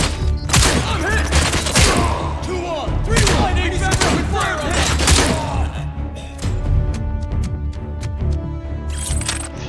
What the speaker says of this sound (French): Le fusil à pompe en vrai.